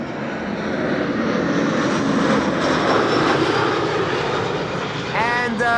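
A loud jet roar from an EasyJet A319 airliner arriving at Amsterdam Schiphol Airport, a broad sustained rumble heard close and outdoors throughout.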